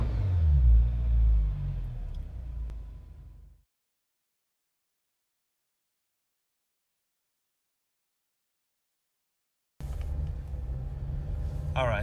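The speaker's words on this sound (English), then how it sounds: "Let's give it a few revs." Jeep JL fitted with an AFE Mach Force XP axle-back exhaust, a loud rumbling engine rev for about three and a half seconds, then silence, with the engine note returning near the end.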